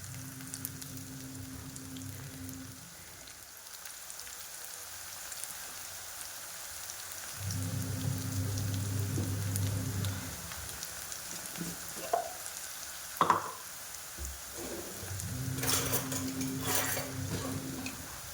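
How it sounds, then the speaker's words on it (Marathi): Lasuni methi, garlic and fenugreek, frying in a pan: a soft continuous sizzle with a low hum coming and going, plus a few sharp clinks and stirring scrapes, fairly quiet and with no voices. "हे चांगल्या प्रकारे फ्राय करून घ्यायचे आहे"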